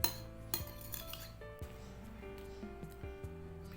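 A spoon stirs a Thai dipping sauce of lime, fish sauce, sugar and MSG in a bowl for crispy fried pork belly, giving soft scraping and clinks against the dish, close and quiet, with no talking.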